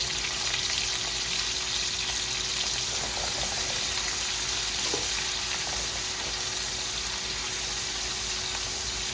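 Chopped onion with salt sautéing in a pot as the base for a tomato stew, a steady, even sizzle heard close and alone without interruption.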